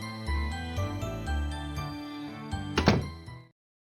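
A door opens in the Arcana Famiglia video game, a brief clattering thunk near the end of sustained background music, after which everything cuts to silence.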